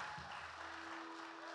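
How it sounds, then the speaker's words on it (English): Church congregation clapping together in worship, a dense steady patter of many hands filling the room, moderately loud with a faint low hum underneath. "Let's clap for the Lord."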